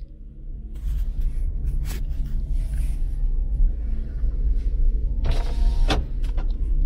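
Dacia Spring electric car pulling away and driving, a low steady rolling rumble with a faint motor whine from inside the cabin, plus a few short clicks and mechanical whirs.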